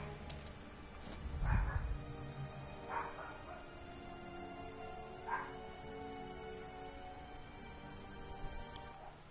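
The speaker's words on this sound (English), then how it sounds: "Yep, that's our dog. She's a Chihuahua" A Chihuahua dog whimpering faintly indoors, with a few short whines and yips standing out over a low steady background hum.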